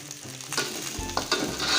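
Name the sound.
fried rice frying and being stirred in pan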